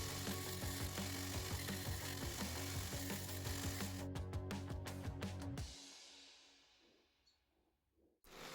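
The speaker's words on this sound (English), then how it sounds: "Taking it down to the belt sander, you can begin to see some of the individual layers forming after grinding." Belt sander grinding a laminated mokume gane ring blank made from American quarters, a loud continuous whirring grind with rhythmic scraping pulses that cuts off abruptly midway, leaving a fading motor spin-down and quiet room.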